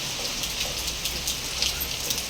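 Steady rain pattering down on surfaces, a dense continuous hiss with scattered sharper drops, close and moderately loud with no voices.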